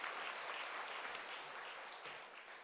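Church congregation applauding the pastor after an afternoon worship service, a soft, even wash of clapping heard from a distance, steady and fairly faint throughout.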